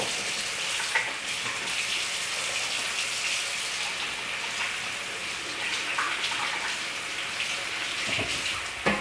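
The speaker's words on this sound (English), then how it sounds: "So let me go ahead and rinse my hands while that's working." Hands being rinsed under a running kitchen tap, water splashing and gushing steadily at moderate level with a few brief louder bursts, no talking.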